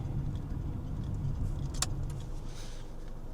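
A manual Integra DC4 driving through Southern California rush hour traffic, with steady low road and engine rumble throughout and a brief sharp clink in the middle, no talking.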